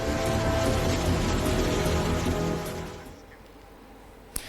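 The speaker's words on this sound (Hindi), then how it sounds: "तो देखिए बारिश जबरदस्त तरीके से हो रही है" Heavy monsoon rain pours loudly and steadily in a hill region, a dense hiss that fades quieter after about three seconds, followed by a single sharp tap near the end.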